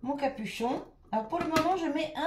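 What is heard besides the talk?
No distinct noise like a dog, phone or traffic.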